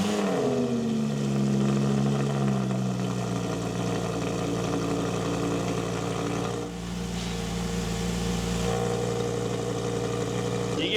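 An Audi R8 V10 engine with a custom variable exhaust fires up and settles into a deep, steady idle, with a brief dip and surge in the rumble partway through.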